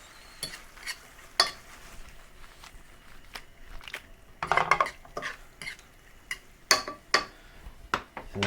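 Penne stirred into vodka sauce in a pan on the stove for chicken parmesan, with irregular utensil scrapes and clinks against the pan and a soft sizzle beneath.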